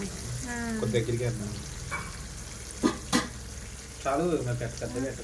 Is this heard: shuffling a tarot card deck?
no